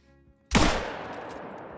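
A single sharp gunshot from a .270 hunting rifle in a video game, loud crack after a quiet moment, followed by a long rolling echo that fades slowly.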